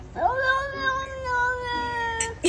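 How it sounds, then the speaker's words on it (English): A neighbor cat on a porch lets out one long, loud, drawn-out meow that rises and then holds steady, close by and alone, with a brief noise burst at the end. "It's a neighbor cat and he came just for drama."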